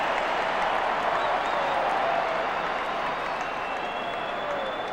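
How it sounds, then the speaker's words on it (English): Crowd at a 2002 AFL match between Sydney and Richmond applauds a retiring player, a loud, dense, continuous roar of clapping and cheering filling the stadium, easing slightly toward the end. "And I suspect even bigger applause."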